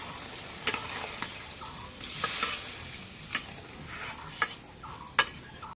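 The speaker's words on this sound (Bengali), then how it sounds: "এখন একটু জোরের পানি দেই নাড়ো" A spoon stirs a pot of pangas fish curry with potato and eggplant after water is added, giving repeated scraping clinks and a soft steady sizzle, fairly close and with no talking.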